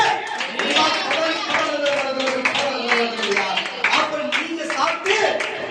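A church congregation clapping hands in sustained, fairly loud applause, rapid overlapping claps running throughout while a voice speaks over the top.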